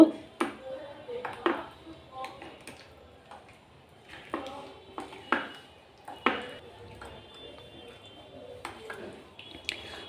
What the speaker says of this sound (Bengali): এবার এই সব মশলা ভালো করে একটু মিশিয়ে নেব